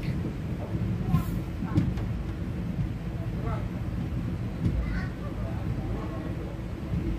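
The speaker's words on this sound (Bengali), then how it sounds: "হালকা হালকা করে ট্রেন ছাড়ছে।" A train slowly pulls away from a station in monsoon season, a steady low rumble and rolling hum with faint clanks, continuous and fairly close, with voices talking faintly beneath it.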